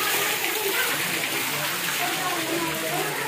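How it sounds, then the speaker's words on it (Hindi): Hot water pours steadily from a cow-mouth spout at the Ganeshwar Dham temple tank while a man bathes beneath it, a continuous close gushing and splashing throughout. "ये देखिए गौमुख से 24 घंटे गर्म पानी आता रहता है, चाहे सर्दी का टाइम हो चाहे कुछ भी हो। ये भाई साहब यहाँ पे स्नान कर रहे हैं।"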